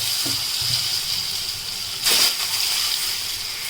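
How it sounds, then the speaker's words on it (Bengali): Eggs fry in hot oil with a steady, close hiss, swelling into a brief louder sizzling burst partway through before settling back to an even hiss. "এবার ডিমগুলো ভেজে নেব।"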